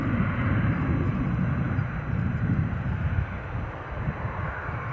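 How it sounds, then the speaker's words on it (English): A Dassault Falcon business jet roars steadily at an airport, a loud, broad engine rumble that eases slightly toward the end, with no talking. "I particularly like the Dassault Falcon"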